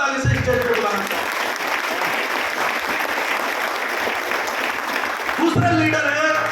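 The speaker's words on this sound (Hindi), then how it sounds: "एक है छत्तीसगढ़ से मिस्टर देवकरणपुरे जी को एक बार जोरदार ताली से स्टेज पे बुलाना चाहूं।" An audience claps loudly and continuously to welcome a leader onto the stage at an event, the applause filling the room with a voice heard briefly at the start and end.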